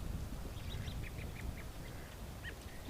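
A mallard duck quacking by a pond in falling snow, a short series of faint, distant quacks over a steady outdoor background hiss and rumble.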